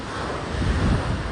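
Surf washing onto a beach, a steady broadband wash with swelling rolls and some wind buffeting the microphone, no talking.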